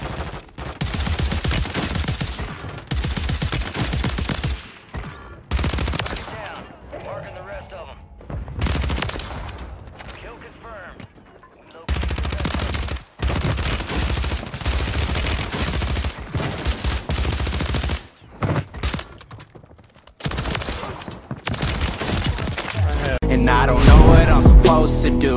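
DTIR 30-06 rifle fire in the video game Warzone 3 comes in loud, repeated bursts separated by short silences. Faint game voices sound underneath, and the firing intensifies toward the end.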